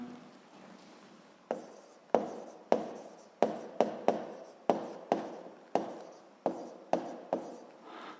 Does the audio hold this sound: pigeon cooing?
no